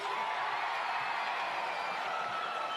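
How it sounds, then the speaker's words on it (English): A women's basketball crowd at a Townsville Fire versus Sydney Uni Flames game roars during a free throw, a dense, steady wash of cheering that stays loud throughout without pause. "fans are cheering harder for the miss than the conversion on their point of view"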